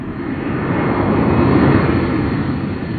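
An XB-70 Valkyrie, the six-engine Mach 3 jet bomber, gives a loud, steady, continuous roar of jet engines that holds evenly throughout, heard alone with no voices.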